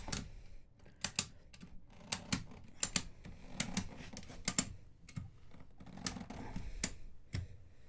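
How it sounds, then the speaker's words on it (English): Retractable E-track ratchet tie-down strap being cranked tight over a tire, giving a series of sharp, close clicks in irregular bursts with short pauses between strokes. "I'm going to start ratcheting it down."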